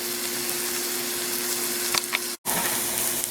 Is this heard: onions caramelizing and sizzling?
yes